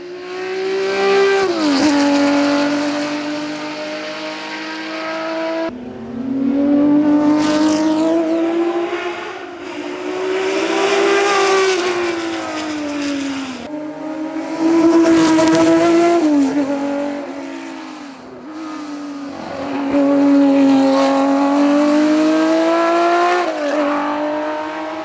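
BMW M1 Procar race cars rev and drive past in repeated loud waves, their engine notes rising and falling with gear changes and passes, close and alone without talk.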